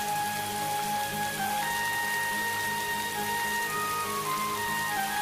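Heavy rain falling in an animated Ramayana cartoon, a steady dense wash of drops heard alone with no break, under a soft musical background.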